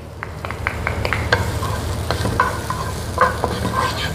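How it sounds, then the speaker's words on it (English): Garlic stir-frying in cooking oil in a pan, a bright steady sizzle broken by repeated quick scrapes and taps of the spatula, close and fairly loud with no voices. "Stir fry garlic with cooking oil until we get fragrant smell."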